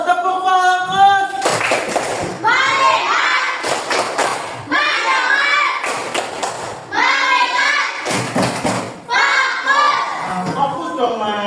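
A classroom of primary school children performs a focus clapping routine, bursts of rhythmic group claps alternating with chanted voices, loud and close, repeated in several cycles.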